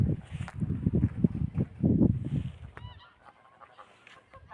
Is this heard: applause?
no